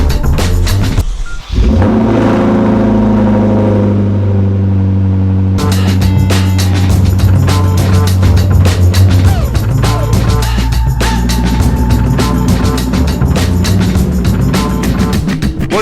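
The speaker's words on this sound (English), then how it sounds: "So this is like a legit polar Arctic cold start." A car engine cranks and fires in a polar cold start after a week of temperatures around minus 10 degrees. It settles into a loud, close idle, with a sharp rattling, clattering layer joining in partway through.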